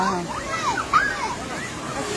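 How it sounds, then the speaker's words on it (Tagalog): Water moves and splashes gently in natural spring pools at Panicuason, a continuous broadband wash heard under voices, with children's chatter mixed in. "Ito yung mga natural na pool"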